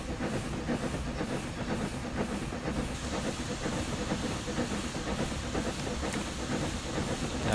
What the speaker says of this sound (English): So whilst we are blowing off, I'll quickly open the injectors, just to keep us topped up for the incline